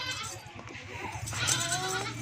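Goat bleating in a farm setting where goats are kept and milked, wavering cries heard close and fairly loud with other animal sounds and a voice faintly in the background.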